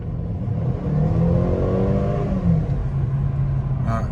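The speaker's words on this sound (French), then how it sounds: "Alors les amis, je vous montre que ça accélère pas mal." A Mercedes CLA 250 with 211 horsepower accelerates hard, its engine note rising and shifting through a sustained revving roar heard from inside, with no talk over it.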